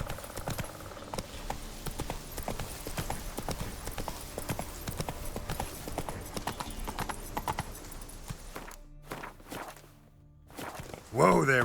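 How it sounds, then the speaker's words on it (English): Horse hooves clip-clop steadily in The Witcher 3, a walking gait with rhythmic knocks over game ambience, then a brief pause before a sharp louder sound at the end. "Whoa there, Roach"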